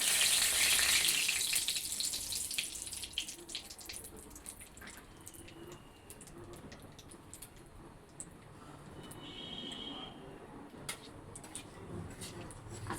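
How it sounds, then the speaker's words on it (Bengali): Cumin seeds and a bay leaf hit hot oil in an old iron karahi, giving a loud broadband sizzle at first that settles into a steady, quieter frying hiss with a few faint clinks. "এই যে সাদা জিরা দিয়ে দিলাম আর একটা তেজপাতা দিছি"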